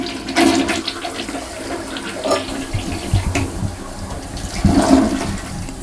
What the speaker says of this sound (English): if you guys flush it